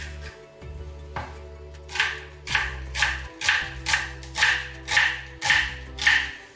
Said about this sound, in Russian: Лук нужно будет мелко порезать.